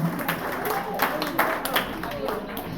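Audience at a primary school graduation clapping for teachers, a dense patter of applause from a crowd throughout the short stretch, with voices mixed in underneath.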